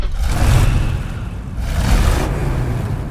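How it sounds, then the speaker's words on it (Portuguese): Movie-style car engine heard over the Warner Bros logo intro for Mad Max: Fury Road: a loud, steady low rumble that swells twice, with no talking. "a logo da Warner Bros com a temática do filme e o barulho de um carro dando partida"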